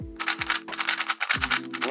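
WeiLong WR M MagLev speed cube being turned rapidly up close, giving dense, loud clacky bursts of plastic clicks in quick runs with brief pauses between them.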